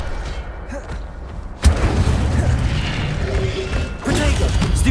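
Fire spell cast in Hogwarts Legacy, heard as a sudden loud boom-like burst that gives way to a sustained roaring, crackling rush, with a second surge near the end.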